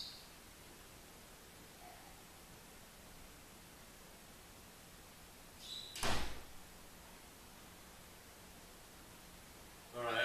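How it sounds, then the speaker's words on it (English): A door swings shut with one sharp thud midway through a quiet room, followed later by a brief rustle; the room stays hushed otherwise. "I just have to shut the door where the bird is"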